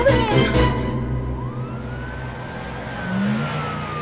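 An ambulance siren wails as a single rising, sustained tone that holds steady, heard over a low rumble of traffic or engine noise, with a brief burst of other sound at the start.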